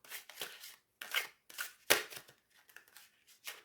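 Tarot cards handled in an overhand shuffle, giving a run of short, crisp papery riffles and slaps in uneven bursts, close and fairly quiet.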